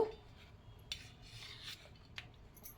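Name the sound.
knife cutting brown crust off bread slices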